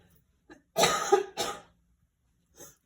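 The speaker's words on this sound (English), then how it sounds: "This cough is just so persistent." A few harsh coughs close by: two forceful bursts in quick succession, a small one before them, and a faint cough after a pause.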